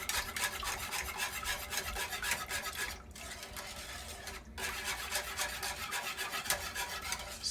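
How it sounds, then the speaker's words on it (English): Mambo sauce of tomato paste and spices being stirred in a pot, a continuous close scraping and rubbing of the spoon against the pan, with two short pauses, no talk. "Stirring well. Make sure you get those edges"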